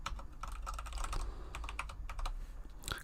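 Rapid, irregular keystrokes of a password being entered on a computer keyboard, close and fairly clear over a low background hum, with no voices.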